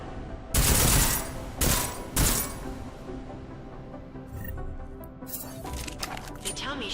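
Gunfire rings out in Deus Ex Mankind Divided as shots hit targets, three sharp, loud blasts spaced about a second apart, then a quieter stretch of game noise and small impacts.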